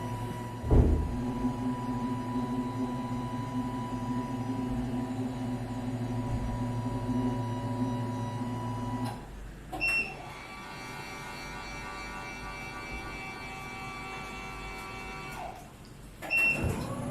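A motorized Reval Caprice bath chair raising: a steady mechanical motor hum with tonal whine runs for several seconds, then cuts out briefly with a short electronic beep at the top of the stroke before the motor resumes.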